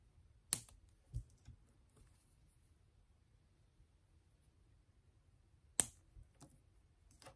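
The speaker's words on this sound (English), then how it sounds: "It's really hard to cut it with scissors, but works great with nail clippers." A few sharp, isolated clicks of small nail clippers snapping through a stiff wired stem, close up in a quiet room, with long pauses between cuts.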